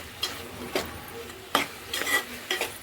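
Chili powder being stirred into a tomato and fried egg curry in a pan, with a spoon scraping and clinking in several short bursts over a faint sizzle.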